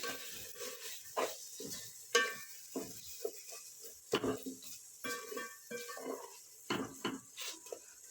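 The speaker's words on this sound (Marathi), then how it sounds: "आलं लसूणची पेस्ट आता हे सगळं आपल्याला एकजीव करून घ्यायचं आहे" Spatula scraping and clinking against a pan as ginger-garlic paste is stirred into a mint mixture for egg biryani, intermittent knocks and scrapes with faint sizzling, moderately close and alone.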